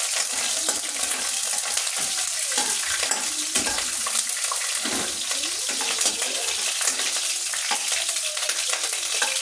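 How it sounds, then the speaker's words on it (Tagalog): Garlic sautéing and being stirred in a pan, a dense continuous sizzle with scraping stirring strokes throughout, loud and close, no talking. "Haluin po natin yung ating nilagay na bawang."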